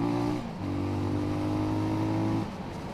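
A Benelli Leoncino 250 motorcycle accelerates in fifth gear with a steady, droning engine and exhaust hum, a short dip and then a level pull before the tone drops off near the end, close and continuous.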